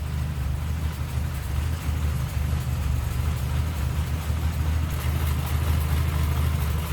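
A 1937 Lincoln Zephyr coupe's V12 engine idling with the hood open, a smooth, steady low rumble heard up close, unbroken and without talk.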